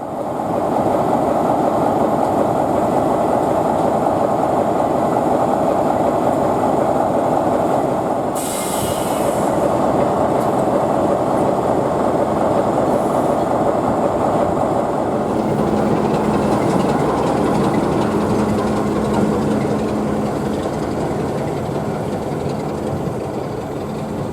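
Class 33 diesel locomotive 33201 passing on a heritage railway line, a loud steady roar of engine and rolling wheels lasting throughout, with a sharp squeal partway through and rhythmic wheel clatter building toward the end.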